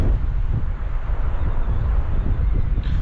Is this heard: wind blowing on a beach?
yes